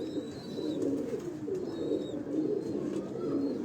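Steady low cooing from pigeons on a Lahore rooftop, a continuous rolling murmur of overlapping coos close by, with faint higher chirps above it and no talk.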